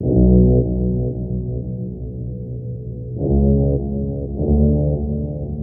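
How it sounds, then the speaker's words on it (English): Deep, droning synth brass chords from a Korg Triton soaked in reverb, held long and swelling back in twice, loud and alone. "Then we got this verbed out brass called True Stereo Bass from Triton"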